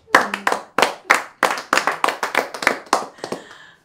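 Audience clapping in uneven bursts, about a dozen sharp claps spaced irregularly, fading toward the end.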